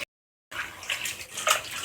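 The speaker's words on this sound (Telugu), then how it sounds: "ఒకసారి వాటర్ వేసి నీట్గా కడుక్కుందాం" Pieces of bitter gourd, rubbed with salt and turmeric, are rinsed in water after a short silence, with close splashing and sloshing that swells and fades over about a second and a half.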